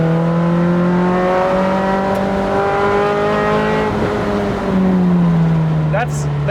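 A Camry-swapped Toyota MR2 engine pulls steadily under throttle, its rising harmonic drone climbing smoothly in pitch, then briefly easing and picking up again, loud and close from inside the car.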